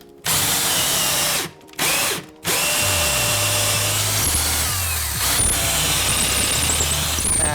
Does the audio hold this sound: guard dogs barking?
no